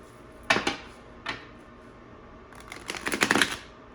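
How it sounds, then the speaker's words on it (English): A deck of tarot cards being shuffled in a few short riffling bursts, one near the start, a brief one after, then a longer burst toward the end, close and fairly quiet with no talking. "I'm just going to shuffle the deck."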